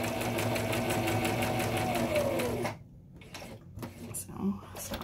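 A sewing machine stitches pieces of fabric together for a face mask, running steadily and loudly with a fast mechanical whir for nearly three seconds before stopping abruptly, followed by quieter handling clicks and a brief voice.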